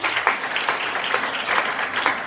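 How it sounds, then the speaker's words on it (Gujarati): Enthusiastic audience applause at a Gujarati college lecture on poetry, a steady dense wash of many hands clapping in a hall, continuous and moderately loud throughout with no voices over it. "આપણે એમને જોરદાર તાળીઓથી વધાવીશું."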